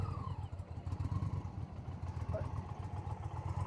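A motorcycle creeps slowly in first gear between practice cones, its low steady engine rumble and light throttle close by while a voice talks over it.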